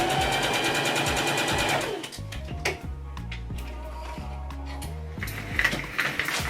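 A sewing machine staystitching the edges of a slip dress runs in a fast, steady mechanical chatter, then slows into irregular stitches with clicks and handling noises, loud and close with no talking.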